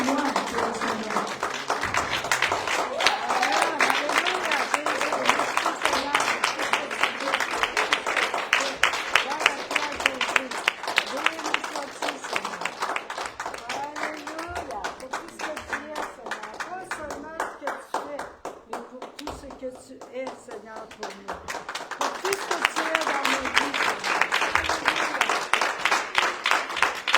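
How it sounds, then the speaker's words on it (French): Congregation clapping in steady, sustained applause through a church service, the dense crowd clapping swelling at the start and end and dipping briefly in the middle. "Pourrais-tu donner une bonne main d'applaudissement avec un cœur reconnaissant?"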